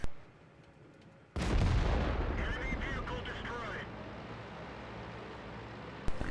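A tank gun in a video game fires a single heavy, booming shot after a quiet stretch, with a long rolling tail that a voice talks over briefly. Another sharp hit lands right at the end.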